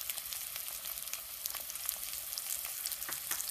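Sliced onions sautéing in hot oil in a clay pot for duck curry, a continuous soft sizzle with faint crackles throughout, nobody speaking.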